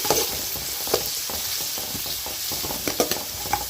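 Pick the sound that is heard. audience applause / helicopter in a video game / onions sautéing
onions sautéing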